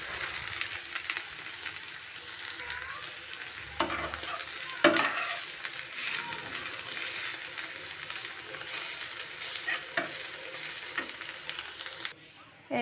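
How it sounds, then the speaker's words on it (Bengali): Mustard greens frying in a pan with browned chopped onion and garlic make a constant close sizzle, broken by scraping stirs and a few louder clatters of a spatula before cutting off abruptly. "এখন আমি শাক দিয়ে দিব"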